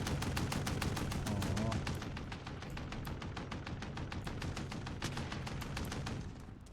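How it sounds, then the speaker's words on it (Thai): Rapid automatic gunfire rattles in Call of Duty: Warzone as a steady, evenly spaced stream of shots that runs almost the entire stretch. A voice briefly mixes in early on. "ใครยิงวะ"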